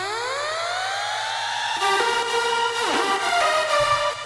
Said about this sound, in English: I love this siren so much